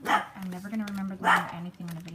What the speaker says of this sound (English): Pardon my dog. She's feisty sometimes.